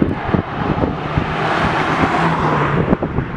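A 2016 Ford Fiesta ST is pushed hard through a corner, its engine a loud, steady roar with road and wind rumble filling the whole stretch, heard from close by.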